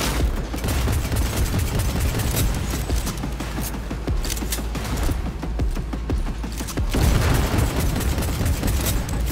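Heavy combat in Cyberpunk 2077 with a thrown grenade going off amid continuous loud gunfire and booming blasts, a dense, sustained barrage with a stronger burst near the end.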